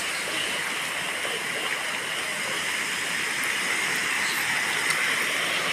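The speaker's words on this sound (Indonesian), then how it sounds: "Cilacap bagian timur banjir ya guys. Ini sudah naik di atas jalan ya," Floodwater from a flood in eastern Cilacap, near the Kuniran bridge, flows steadily over a submerged road, a constant broadband rush with no voices.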